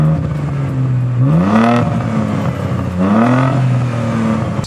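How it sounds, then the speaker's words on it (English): Vauxhall Vectra VXR engine close by, running with two sharp revs that rise and fall back to a steady idle. "should we start the engine"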